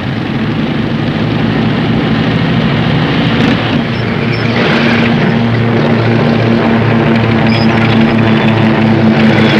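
A WWII propeller aircraft passes overhead in North Africa in 1943, its engine a steady, loud, continuous drone that swells slightly throughout.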